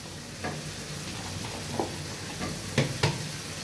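Chopped onions frying in hot oil give a steady close sizzle, with a few soft stirring scrapes and taps breaking through.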